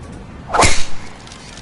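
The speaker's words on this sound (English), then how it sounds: "Another good tee shot right there." A single golf club tee shot swing in a PGA Tour video game gives one quick, sharp whoosh and crack, a brief close swish peaking within a fraction of a second over quiet background noise.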